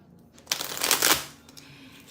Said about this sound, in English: let me finish shuffling the deck